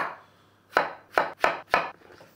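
A knife chopping a vegetable on a cutting board, four crisp close cuts in quick succession after a soft initial scrape, with no voices.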